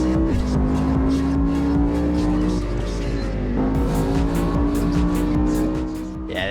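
A BMW E60 with a V10 engine in a racing video game howls at high revs, holding a loud, sustained engine note with a brief dip and shift partway through and tire noise beneath.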